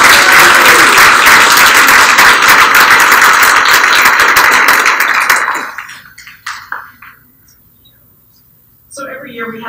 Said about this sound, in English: Let's have a round of applause for Class 13.